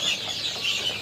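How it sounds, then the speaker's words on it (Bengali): A farm chicken clucks close by in a few quick, soft throaty notes, with no voices over it. "একটি সুন্দর একটা ফার্মি মুরগি"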